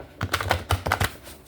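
Oracle cards riffle and tap together as a deck is shuffled, giving a quick burst of about seven or eight crisp, close clicks and flutters over roughly a second, with no voices.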